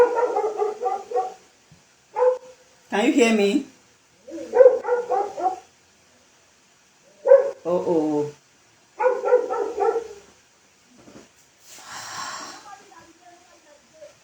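A dog barks in the background during a home online webinar, giving a few sharp, loud barks in separate bursts between stretches of a person talking.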